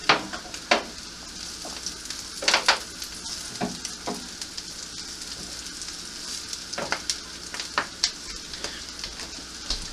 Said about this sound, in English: I just take the spatula and use the spatula to cut it when it's almost ready to turn